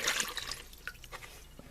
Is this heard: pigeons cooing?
no